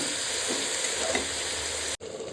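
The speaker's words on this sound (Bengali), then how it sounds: "দেখো সুন্দর করে কষছে দেখো হাই হিটে কষাচ্ছি" Mutton with yogurt and onions sizzles and fries on high heat in a pressure cooker, a steady close crackle that cuts off abruptly near the end before resuming more quietly.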